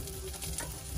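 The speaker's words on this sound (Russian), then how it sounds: "Жарится рыбка наша." Salted mackerel, without oil, frying on a grill in a home fireplace: a soft, continuous sizzle and crackle, quiet and steady throughout.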